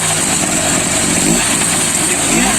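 A petrol brush cutter fitted with an attachment runs loudly and steadily up close, its two-stroke engine buzzing with a slight wavering in pitch throughout.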